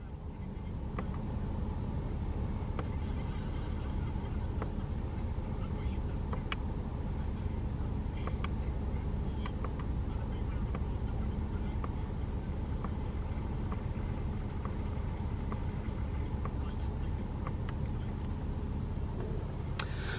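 A 2008 Lexus IS250 with a 2.5 V6 idles steadily for about twenty seconds, a low, even hum with faint clicks and ticks over it and no talking.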